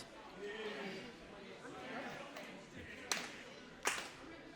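Wrestling crowd at a Heart of the Southern Sixteen tournament clapping and murmuring behind a wrestler, a faint, diffuse crowd noise with a few sharp claps or slaps standing out near the end, under a commentator's talk.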